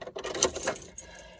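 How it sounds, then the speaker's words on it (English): Car keys jangle briefly inside a parked car, a close bright metallic clinking that comes in a couple of quick shakes before settling. "hence car keys"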